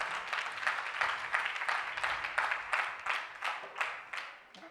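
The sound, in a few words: church congregation applause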